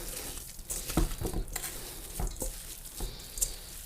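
Ground beef being mixed by hand for shish kebab, soft wet squishing and patting in irregular bursts, close and fairly quiet.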